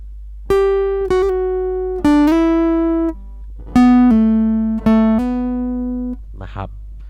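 A clean electric guitar plays short runs of hammer-ons and pull-offs, quick pitch changes slurred together within each phrase, separated by brief pauses; no one talks.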